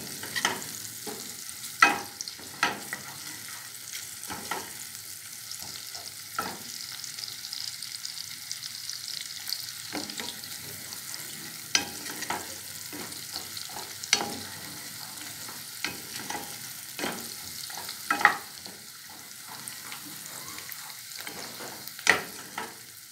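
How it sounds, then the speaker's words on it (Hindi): Sliced onions browning in a frying pan, a steady close sizzle broken by repeated clicks and scrapes of stirring, with no talk. "इनको हमको ब्राउन करना है ऑनियन को।"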